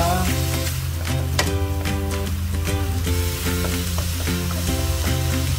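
Chicken and sliced button mushroom filling for bacang stirred in a pan: continuous loud sizzle overlaid by a rhythmic repeating melodic music track, with faint stirring scrapes underneath.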